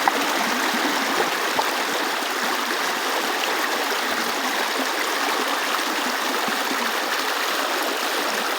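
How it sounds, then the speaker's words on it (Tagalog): Fast-flowing stream water rushes steadily and loudly, a continuous dense splashing roar with no voices. "medyo malakas nga ang agos ng tubig sa part ng lugar na ito"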